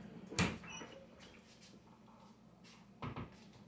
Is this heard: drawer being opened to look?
yes